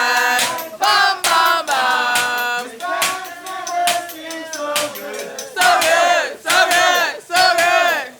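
A loud restaurant crowd aboard a Royal Caribbean cruise ship sings a song together in bursts, voices rising in a rowdy chorus with short pauses between phrases, close and energetic.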